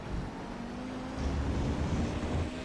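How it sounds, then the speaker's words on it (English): Race car on the iRacing game's Road America circuit braking into Canada corner with the clutch in, a steady engine drone dropping to a deeper rumble, faint and distant, with no talking. "Let's hear what he's doing with his right foot into the braking at Canada corner."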